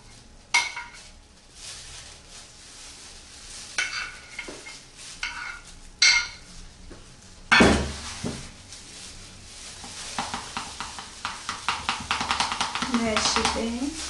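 Melted chocolate stirred in a bowl for Easter eggs, before going into a bain-marie: scraping, clinking strokes come in bursts and then a quick rhythmic run of taps near the end, with some talk in the background.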